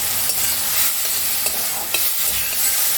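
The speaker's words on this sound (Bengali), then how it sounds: "এর মধ্যে আমি চিংড়ি মাছটা ভাজার জন্য অল্প তেল দিলাম। চিংড়ি মাছের মাথাটাকে ভেজে নিয়েছি, তারপর চিংড়ি মাছটা দিয়েছি।" Prawns fry in a little oil for a Bengali lau chingri dish, their heads fried first, giving a steady close sizzle broken by occasional stirring scrapes and crackles throughout.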